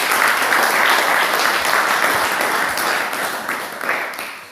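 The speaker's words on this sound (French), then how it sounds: "Applaudissons pour le Seigneur." Church congregation applauding together during a worship service, a steady wash of clapping that holds loud for several seconds before tapering slightly at the end.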